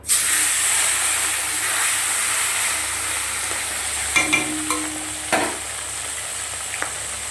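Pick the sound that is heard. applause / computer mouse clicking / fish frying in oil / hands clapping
fish frying in oil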